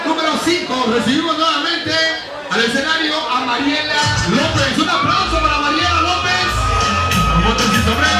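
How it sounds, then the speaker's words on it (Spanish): A crowd at a bikini contest whoops, yells and cheers loudly throughout, with shouts, a brief dip, and an amplified announcer's voice over the noise. "¡Un aplauso para Mariela López!"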